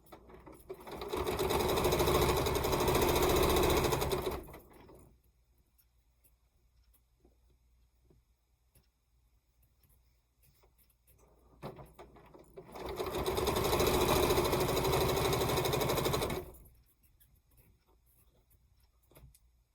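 Two long bursts of a sewing machine joining quilt rows, each a steady, loud, rapid whir lasting several seconds, separated by a long quiet pause with faint room noise.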